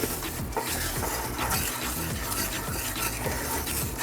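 Butter glaze for wings is stirred steadily in a pan, with continuous scraping and faint clinks of utensil on metal, close and alone with no voices.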